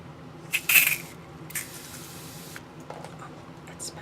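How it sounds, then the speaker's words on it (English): Thermal water sprayed onto a makeup sponge in a quiet room: a few short, close hissing spritzes, the strongest near the start, followed by fainter bursts and small handling taps. "It's just a little thermal water that I'm just gonna spray onto the sponge to wet it."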